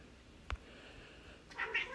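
A house cat meows in a couple of short, fairly faint calls near the end, following a brief thump, over quiet room noise while a video game is played.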